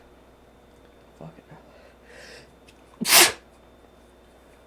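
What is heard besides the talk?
sneeze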